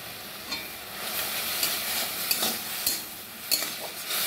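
Chopped pineapple with salt stirred in a hot pan for a sweet-sour chutney, a steady sizzle broken by sharp scrapes and taps of the spoon, close up and without speech.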